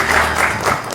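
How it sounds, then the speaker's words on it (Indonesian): A studio audience applauds a talk-show guest in a brief, dense burst of clapping that stays loud and even throughout. "Kita berikan tepuk tangan untuk Pak Ugro Seno"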